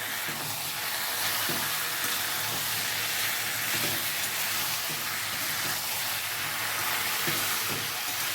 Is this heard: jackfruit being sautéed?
yes